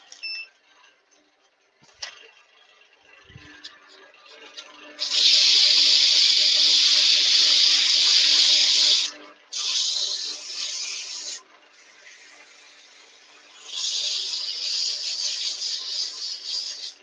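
A dust extractor in a woodturning workshop starts up after a few faint clicks and knocks, then blows a loud steady hiss that cuts out briefly twice and resumes, with short quieter stretches between the runs.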